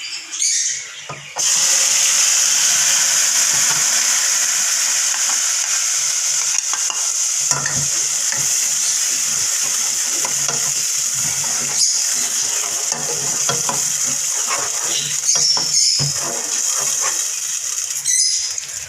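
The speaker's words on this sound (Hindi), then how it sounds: "मसाला हल्का सा फ्राई हो जाएगा चंद सेकंड के लिए बस।" Spice masala and ground onion paste fry in a pan for chicken with taro root, a dense, close sizzle that jumps in sharply after a short pause and carries on steadily, with faint scraping of stirring and no voices.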